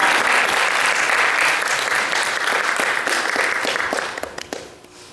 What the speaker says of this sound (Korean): 박수 치면서 할렐루야